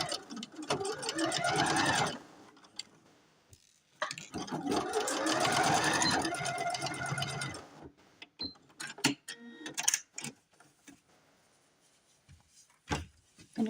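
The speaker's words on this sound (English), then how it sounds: "Now I'm going to sew right across the bottom here." Sewing machine stitching across the bottom of a denim patchwork Easter bunny, two steady runs of about two seconds each, close and clear, followed by scattered clicks and handling noises.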